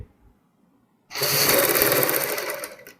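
A sewing machine stitches a strip onto a designer kurti, starting abruptly after a quiet moment and running in a loud, steady rapid whir until the end.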